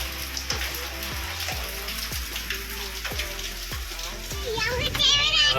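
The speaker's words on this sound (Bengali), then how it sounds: "বাইরে প্রচন্ড জোরে বৃষ্টি পড়ছে প্রচন্ড জোরে বৃষ্টি পড়ছে" Heavy rain pours down outside in a steady, dense hiss that runs the whole way through, with children's voices and other talk mixed in over it.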